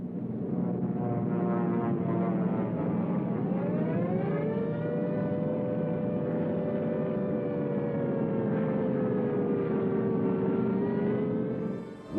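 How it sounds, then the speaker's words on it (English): Italian bomber aircraft flying over Malta in 1940 produce a loud, sustained droning wail with slowly sliding pitch, steady and unbroken for the whole stretch, with no voices. "Mussolini unleashes his bombers on Malta"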